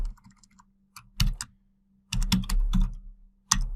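Computer keyboard keys clack in short clustered bursts during Python coding, with quiet gaps between bursts and no talking.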